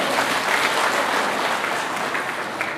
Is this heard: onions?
no